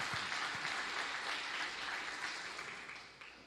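A congregation applauds for Jesus during a pastor's sermon, a fairly soft and steady patter of many hands that gradually tapers off.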